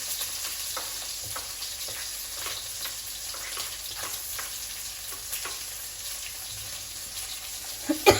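Green chillies and onions spluttering in hot oil for a tomato and brinjal gojju: a steady, close sizzle with scattered pops and crackles and occasional stirring, with a louder clatter at the end and no talking.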